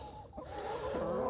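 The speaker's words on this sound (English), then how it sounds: "There's a big rooster, naked neck." Free-range chickens cluck softly outdoors near a large naked neck rooster, with faint, close murmuring calls and no talking.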